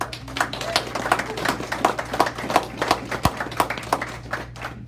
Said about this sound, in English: We owe you a huge round of applause.